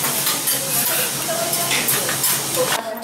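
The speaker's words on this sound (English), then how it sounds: "our reward is some okonomiyaki, which they're cooking for us now with oysters" Okonomiyaki with oysters sizzles on a hot griddle on Miyajima, a steady, close, hissing fry with bursts of crackle that carries on throughout the clip.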